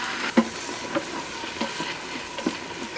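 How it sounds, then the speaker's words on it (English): Chopped onion sautes in coconut oil in a hot Instant Pot, a soft steady sizzle broken by a few light stirring clacks. "I'm going to add 1 onion chopped to that. And I'm going to saute it a bit."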